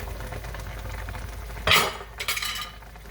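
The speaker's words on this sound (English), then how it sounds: "now I am going to go ahead and put in the cubed potatoes" Cooked cubed potatoes tumble into a corned beef and cabbage stew in a pot, with a sudden clatter followed by a few scraping stirs against the pan over a low simmering background.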